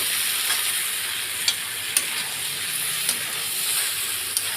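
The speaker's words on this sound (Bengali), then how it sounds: "এবার নুনগুলো ভালো করে আমি পেঁপে আলু সয়াবিনের সঙ্গে মিশিয়ে নিচ্ছি।" Papaya, potato and soybean curry is stirred with salt in a hot pan, giving a steady close sizzle broken by a few sharp utensil clicks.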